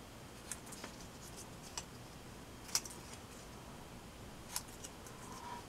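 Scissors trim the corners of paper with a handful of quiet, separate snips spread out over a soft hiss, and nobody is talking.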